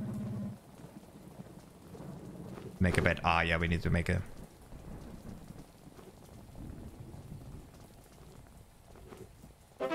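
Steady rain falling outside with distant rumbles of thunder in Finnish Army Simulator, a constant soft hiss underneath, briefly covered by a loud game voice and someone talking.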